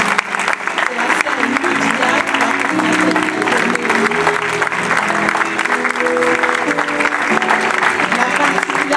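Church congregation at a service in Lyon applauding in praise, sustained, loud, dense clapping from a large crowd, with voices and cheering mixed underneath throughout.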